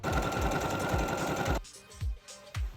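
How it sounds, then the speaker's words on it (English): A sewing machine stitches around the lining of a cosplay hood, running in a fast, steady whir for about a second and a half, then stopping, followed by a few soft knocks. "and then sew around the lining of the hood"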